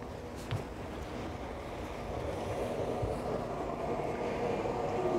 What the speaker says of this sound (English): Obviously I've got the engines running and I've checked my gears.